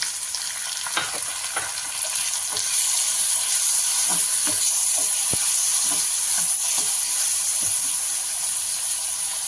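Chopped tomatoes hit a hot pan for a Tamil sundakkai vatha kuzhambu, sizzling steadily and loudly throughout with scattered clicks and stirring knocks, close by and without talk.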